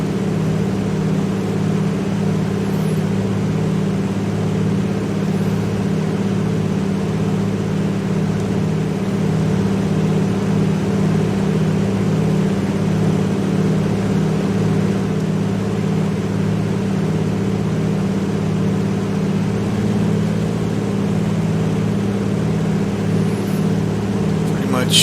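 A piston aircraft engine drones steadily at wide-open throttle, a loud, unbroken hum with strong low harmonics filling the cabin; a voice talks intermittently over it.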